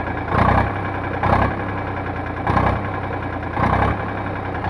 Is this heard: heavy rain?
no